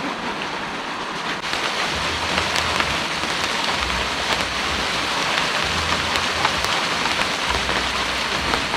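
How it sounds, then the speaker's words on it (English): Heavy tropical rain pours at a jungle resort in El Nido, Philippines, a dense continuous hiss of drops on surfaces with faint low rumbles underneath. "since it's raining pretty hard now"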